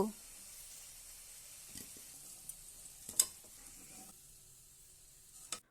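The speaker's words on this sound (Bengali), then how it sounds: "নুন আর হলুদ দিয়ে আলুগুলোকে আর এক দু মিনিট আমি নাড়াচাড়া করে নেব" Potatoes with salt and turmeric frying in oil in a pan while being stirred: a faint, steady sizzle runs throughout, broken by a few sharp clicks and scrapes of the stirring utensil, with no talking.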